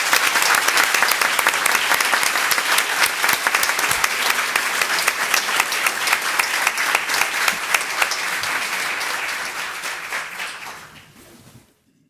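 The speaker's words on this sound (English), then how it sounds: "Please join us in a round of applause for these 17 campuses." A room of attendees at a school district board of trustees meeting applauds the recognized campuses: sustained, lively clapping with sharp individual claps, holding for about ten seconds before fading out quickly.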